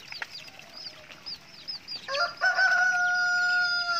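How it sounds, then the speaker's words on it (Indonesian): Backyard chickens cluck and chirp in short repeated calls, then a rooster lets out a loud, drawn-out crow close by that dominates the last half. "Dan ayam ini yang lucu banget"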